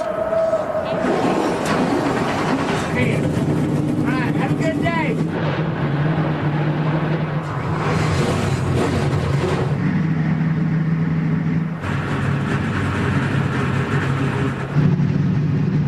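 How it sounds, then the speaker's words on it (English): NASCAR Camping World Truck Series race truck engines fire up and rumble together, a loud, continuous low throbbing with revving surges, while an announcer talks over the noise. "The engines are fired."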